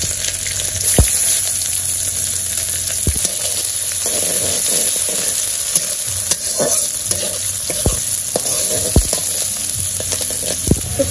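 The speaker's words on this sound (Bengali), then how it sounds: "তো পেঁয়াজ ভাজা ভাজা গেছে" Oil sizzles loudly and continuously in a kadai as onions fry with bay leaf, cumin, ginger and spices. Repeated stirring scrapes and clinks come through up close, with no talking.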